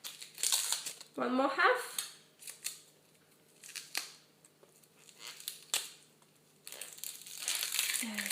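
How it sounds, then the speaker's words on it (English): Dry outer onion skin is peeled and pulled away during prep for a Spanish chicken chorizo bake, giving crisp crinkling and snapping sounds in short bursts, with a brief spoken remark between them. "Remove the outer layer, the old skin, because it's really dry"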